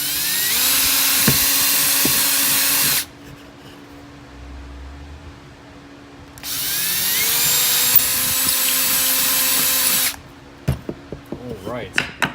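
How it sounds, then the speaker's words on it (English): A cordless drill bores holes for cabinet hardware in two sustained high-pitched whining runs of about three seconds each, with a quiet gap between them, followed by a few sharp knocks and clicks. "got our drill bit already in place"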